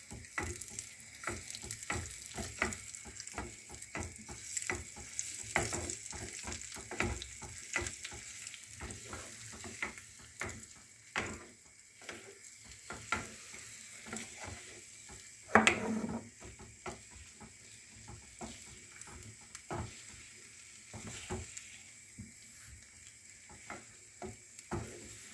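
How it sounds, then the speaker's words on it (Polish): Eggs fry in a pan for scrambled eggs while being stirred, giving a steady, quiet sizzle broken by repeated light scraping taps and one brief louder clatter midway. "Ja te jajka smażę troszeczkę dłużej, bo lubię, jak są ścięte"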